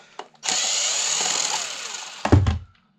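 A power drill whirs steadily at close range for about two seconds while backing screws out of a desk fan motor, with brief clicks before it and a clatter of metal as it stops.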